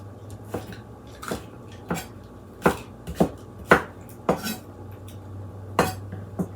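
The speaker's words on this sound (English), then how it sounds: "While we're chopping up the vegetables" A knife chops vegetables for broccoli cheddar soup on a cutting board in about ten uneven strokes, crisp thuds spaced under a low background hum.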